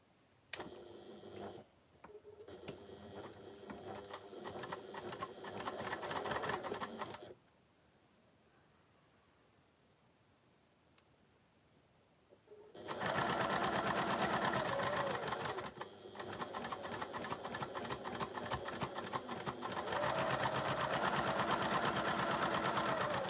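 A sewing machine stitches a seam while piecing interlocking fabric triangles, running in two loud sustained bursts separated by a quiet pause, with no talk over it.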